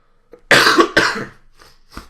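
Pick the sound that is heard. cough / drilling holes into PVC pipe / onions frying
cough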